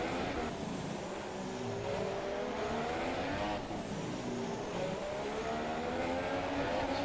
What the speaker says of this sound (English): foot to the floor time for Dobby. Revving the car nice and high